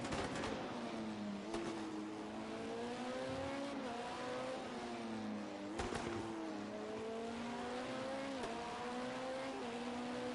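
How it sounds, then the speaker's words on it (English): Onboard an LMP2 race car at the Indianapolis Road Course, a steady engine drone rises and falls as the driver lifts and coasts, with sharp gear-change clicks breaking the tone every few seconds, heard alone. "Let's just listen for some lift and coasting here on board with Bruce Law"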